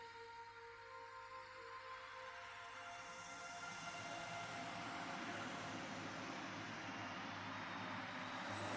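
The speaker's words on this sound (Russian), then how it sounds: "где идет поезд, проносится поезд" A train rushing past in the film Stalker, a steady broad rumble and roar that grows slightly louder and fuller over the clip, with a low mechanical hum beneath and no clear individual wheel beats.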